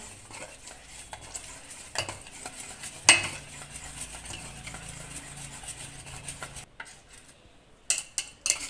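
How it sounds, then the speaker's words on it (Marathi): Khaman dhokla batter is whisked in a bowl, a steady soft scraping and stirring with light clinks of the utensil against the bowl and one sharper knock, close and quiet with no talking. "आपण हे आपलं मिश्रण आता फेटून घेतलं आहे"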